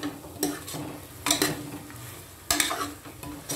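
A rice mixture in a pan with biryani masala and chili powder being stirred in for a plain biryani-style rice. Several loud scraping strokes from a spoon come in bursts over a low background sizzle.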